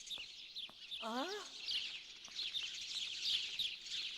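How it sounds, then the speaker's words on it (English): Dense, continuous high chirping from many birds inside an enclosure, with one louder warbling call standing out near the start, and a few soft thumps underneath. "There's so many birds in here."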